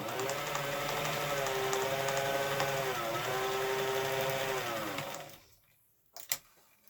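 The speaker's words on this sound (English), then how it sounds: "sew out to either side, straight stitching here" A sewing machine runs steadily and close by, straight stitching a fabric mask with a continuous whirring motor whose pitch shifts slightly, then stops, followed by a couple of faint clicks.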